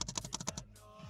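A Dell G5 SE laptop keyboard, struck in a quick run of about eight sharp, close clicks over half a second, followed by a faint fading tail.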